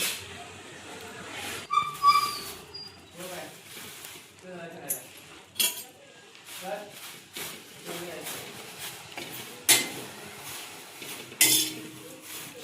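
Thin poha flakes roast in a kadhai with intermittent metallic scraping and clinks of a spoon against the pan, spaced irregularly under a woman's speech.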